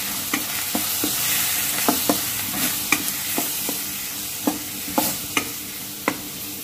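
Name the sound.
stirring spice masala powder into frying corn rice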